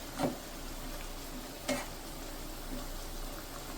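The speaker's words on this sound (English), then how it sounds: "Steaming some fish, well, brown stew, some fish for my Easter dinner." Fish brown stew cooks in a ceramic nonstick pan with a faint, steady sizzle, broken by two or three soft utensil clicks and stirs.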